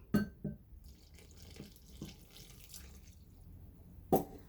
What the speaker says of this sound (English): To all this, I'm going to add 420 milliliters of warm water.